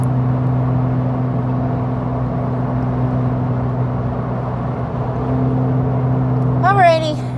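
Cabin drone of a car on the road heard from inside, a steady low engine and road hum with no change in pace, and a brief higher sound near the end.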